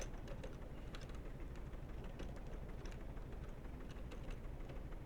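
A train in the game Stormworks rumbles along steadily in an arctic setting with a constant low roar and faint clicking, with no voices.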